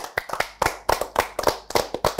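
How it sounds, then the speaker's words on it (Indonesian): Talk-show audience members clap in a sparse, uneven rhythm, each sharp hand clap distinct and fairly close, a small group rather than a large ovation. "Boleh kita berikan tepuk tangan."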